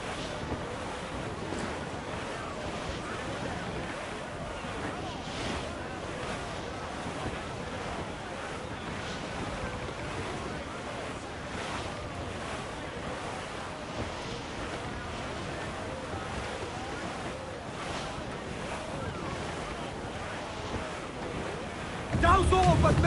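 Stormy sea waves and gusting wind roll continuously around a sailing ship in Assassin's Creed IV Black Flag, a steady dense roar with surging swells and a louder burst at the very end.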